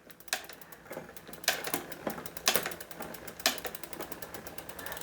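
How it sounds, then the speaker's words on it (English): An SRAM GX bike shifter clicks through the gears one step at a time, giving about six or seven crisp, evenly spaced ratcheting clicks, close up and quiet, with no voices. "we're going to adjust from the 10th gear all the way to first, one click at a time"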